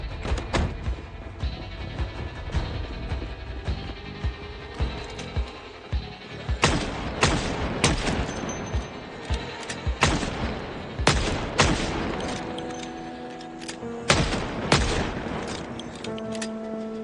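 Shotgun blasts ring out inside a building in Project Zomboid Build 42, a zombie survival video game. Dense, repeated booming shots come in irregular bursts with a constant thudding backdrop of game noise and no talking.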